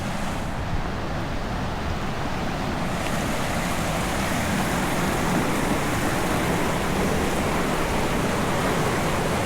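Creek water rushes steadily where Pond Run Creek flows into Little Bushkill Creek in Pennsylvania, a dense, continuous broadband wash with no voices.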